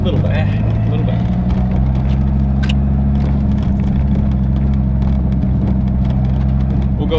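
A Dodge Viper's engine holds a steady, loud, low rumble with a manual transmission, held at light throttle and growling continuously close by as a voice talks over it.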